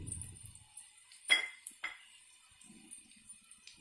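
A spoon clinks against a pot while turmeric, salt and chili powder are stirred together for a traditional fish gravy: two sharp metallic knocks, then a softer scrape and faint taps.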